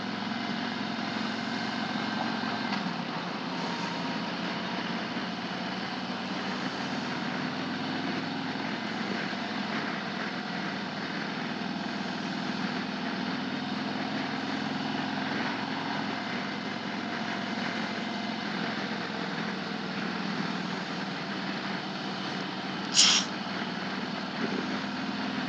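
A Harley-Davidson Road Glide motorcycle engine idles in a steady, even rumble that holds the whole time, close and fairly smooth, with one brief high click near the end.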